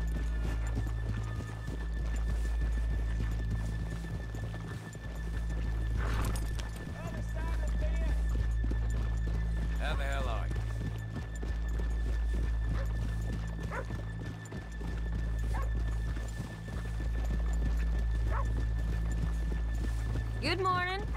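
Steady clip-clop of horse hooves in Red Dead Redemption 2 over a low ambient hum, with an occasional whinny and some talking in the background.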